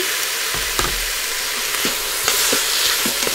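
Chicken wings sizzle and fry in a pot with ginger, a dense continuous hiss broken by soft clicks and scrapes of stirring, close and fairly loud with no voices.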